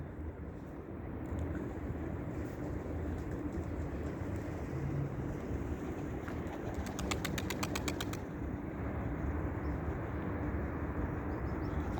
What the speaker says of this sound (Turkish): Kuşta kanat sesi de var arkadaşlar. Güzel kanat sesi var.